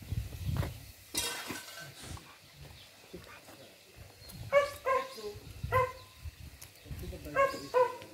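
A dog whimpers and yips in high, short, plaintive cries that come in clusters. Quiet conversation and handling noises run underneath.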